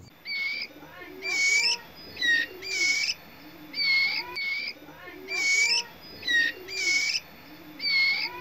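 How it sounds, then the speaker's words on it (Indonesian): Bright, whistled song of a female oriental magpie-robin repeats in a steady rhythm, each a quick rising-and-falling snippet, sung close and fairly loud over faint background noise. "Sedangkan ini adalah suara trotol betina"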